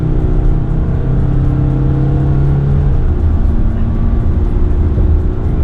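A 2021 Hyundai Staria van accelerating hard in sport mode, its 177 PS engine giving a loud, steady, droning roar with sustained mechanical tones heard from inside the cabin.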